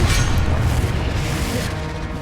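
A Confringo fire spell bursts in Hogwarts Legacy, a loud booming blast that rolls into a rumbling decay amid dense game ambience.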